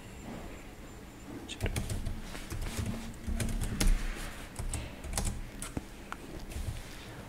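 Rapid bursts of keystrokes on a computer keyboard while code is entered, clattering in irregular clusters up close, fairly quiet in a calm room.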